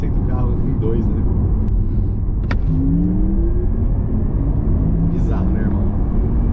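A Porsche Taycan GTS electric car of about 600 hp accelerates hard. A deep, loud rumble of road and cabin noise runs throughout, with faint rising motor whines sweeping upward.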